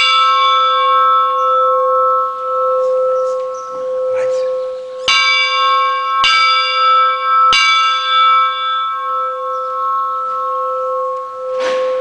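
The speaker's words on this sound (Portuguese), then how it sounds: "nós estamos na torre aqui da igreja do Barro Preto, mostrando esse sino que foi colocado aqui em 1963" Bronze-toned church bell installed in 1963 in the tower of Barro Preto church in São Domingos do Prata, heard up close and loud. Three sharp strikes ring out, each leaving a long, humming resonance that hangs through the silence between them.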